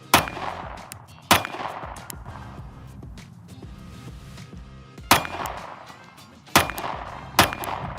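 A Sig Sauer P365 X-Macro pistol fires five sharp, loud shots at an outdoor range, spaced irregularly with a pair close together near the end, each cracking out over quiet ambience.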